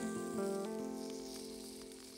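Mutton frying on a hot stone over an open fire in a jungle setting, giving a steady close sizzle that runs throughout with a faint tonal hum beneath it.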